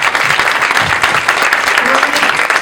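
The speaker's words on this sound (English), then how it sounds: "Well, now we can clap." A roundtable audience on women's health claps at the close of the session, with dense, sustained applause close up, full and even throughout, with a murmur of voices underneath.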